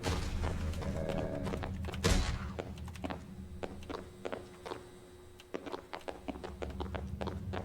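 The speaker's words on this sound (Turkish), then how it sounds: "kapıyı kırıyor" Heavy thuds and thumps of a door being broken down in a video game, with one loud crashing blow partway through, amid scattered knocks and footstep-like impacts.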